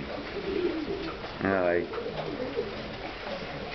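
A pigeon coos once in a short soft burst, close by, over steady outdoor background noise with brief speech nearby.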